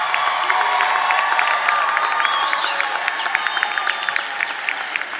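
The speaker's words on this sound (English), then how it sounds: "give one more loud, warm round of applause" Loud, sustained applause from a large crowd at a university commencement, dense clapping with scattered cheers and whistles throughout.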